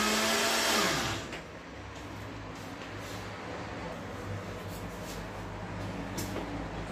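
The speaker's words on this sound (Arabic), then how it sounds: "دابا غنعاود نطحن" A blender grinds cake ingredients with a loud, steady whir whose pitch drops after the first second, then runs on evenly to the end with no talk.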